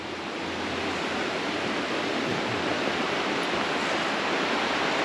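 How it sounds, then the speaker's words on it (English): A fast-flowing mountain river in Sieber in the Harz rushes with a steady, broad roar of water, close and continuous with no voices. "Obviously this one's quite fast flowing because we're actually in the mountains"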